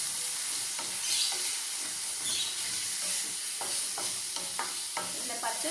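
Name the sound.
sautéing onions and tomatoes in an aluminium kadai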